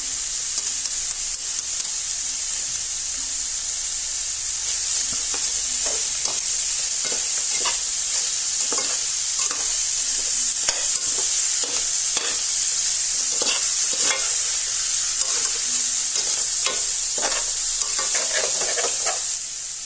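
A seasoning mixture sautés loudly in a pan for a native chicken kaldereta, a strong continuous sizzle with repeated scraping stir strokes throughout.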